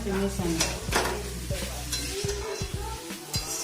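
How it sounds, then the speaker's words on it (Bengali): Chow mein frying in two woks, with steady sizzling under repeated scraping and stirring strokes of a spatula against the metal, close and busy throughout. "দুটো কড়াইয়ে চাউমিন হচ্ছে"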